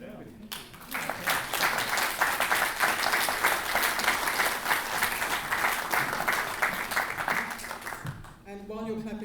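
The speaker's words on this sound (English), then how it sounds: "And while you're clapping" A room full of people at a progressive oration event applauds steadily for about eight seconds, a dense, even wash of clapping that fades out before a voice begins speaking.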